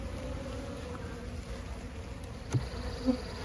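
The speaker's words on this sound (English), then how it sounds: "there's enough bees here to keep it nice and warm" Honey bees in an open spring colony hive with capped and uncapped brood give a steady, close buzzing drone throughout, with a couple of brief louder passes near the end.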